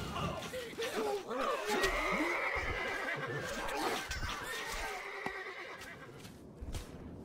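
A horse whinnies loudly in the PC strategy game Stronghold Crusader HD, a drawn-out shrill neigh with hoofbeats and a spoken voice line around it.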